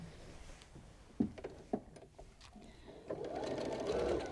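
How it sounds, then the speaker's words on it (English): A sewing machine stitches a 1/4 inch seam down the side of joined fabric rows, starting with a few quiet clicks and thumps before a steady, louder whirring run builds near the end. "I'm going to take this to the sewing machine, and I'm going to sew 1/4 inch right down the side"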